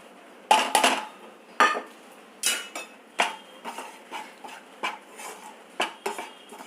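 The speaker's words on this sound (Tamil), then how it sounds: "அடுத்து இந்த கடாயில் மாவெல்லாம் வறுக்கணும்." Flour being dry-roasted in a kadai for seedai: a spatula scrapes and clinks against the metal pan in close, irregular strokes, each one loud and sharp and separated by short pauses.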